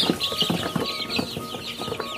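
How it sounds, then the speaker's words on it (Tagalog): 18-day-old chicks in a brooder, a close, busy chorus of overlapping high peeps and chirps with no pause. "Ganyan na sila kalaki mga chicken, no?"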